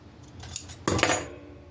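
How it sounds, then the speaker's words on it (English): Scissors cutting a fabric wing pattern from bright red cloth at a sewing table: a few soft snips, then a louder, brief burst of cutting and rustling close by, with no talking. "Cut me out a wing pattern."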